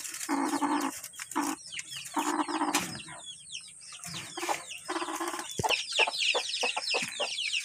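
Hens in a simple backyard coop for free-range village chickens cluck nearby in repeated bursts, joined by fluttering wings and sharp chirps from chicks, with no talking.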